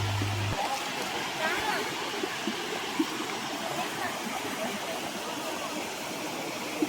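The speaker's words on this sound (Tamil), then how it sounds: "இதுதாங்க கோவில் ஃபால்ஸ்." Kovil falls at Aare falls, a hidden waterfall, giving a constant broad rushing hiss of falling water, steady and fairly close, with a brief low engine-like rumble at the start.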